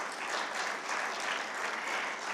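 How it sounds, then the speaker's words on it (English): An audience at the Asia Economic Dialogue 2025 cyber resilience panel applauds the panelists on stage with steady, dense clapping that holds at an even level for a couple of seconds. "One last round of applause for them."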